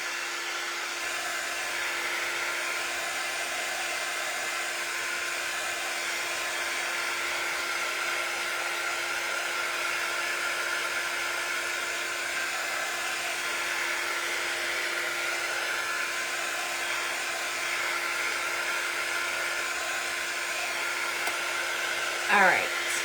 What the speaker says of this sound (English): so we are going to dry this real quick